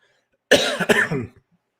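A single harsh cough in two quick bursts, close and fairly loud, then silence.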